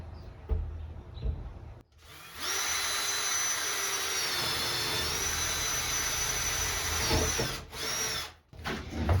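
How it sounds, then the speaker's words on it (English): A power drill whines steadily for several seconds, boring a hole through wood in a shed window opening, with brief pauses and a rattling start and stop. "we're gonna take our drill and we are going to punch out a hole"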